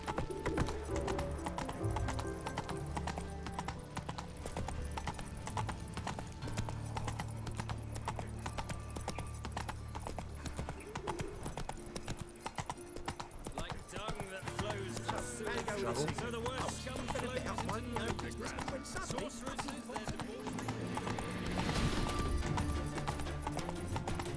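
Horse hooves clip-clop in a steady gallop throughout, close and prominent, from The Witcher 3 video game, with game voices and music mixed in at times.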